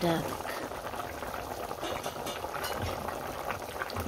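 Curry bubbling at a rolling boil in a pot, giving a steady close simmering hiss with soft pops throughout, and someone talking over it.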